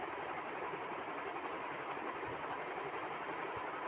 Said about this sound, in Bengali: তো প্রথমে এগুলোকে ভালো করে বেটে নিচ্ছি।